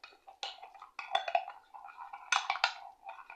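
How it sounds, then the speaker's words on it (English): A metal spoon stirs sugar into espresso in a cup, giving a run of quick, light clinks and scrapes against the sides in uneven bursts, close and fairly quiet. "I'm just going to give this a stir. Just stir it up"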